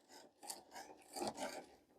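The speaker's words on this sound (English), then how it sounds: "we'll drill in a little bit more" A hand tool drills into a wooden post in an equipment shed, giving soft, rasping strokes in an uneven rhythm, fairly faint and close, with no talk.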